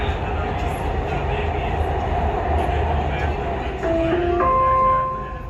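A Dubai Metro train rides along with a steady low rumble and rail hum, a brief electronic tone sounding near the end as it runs on.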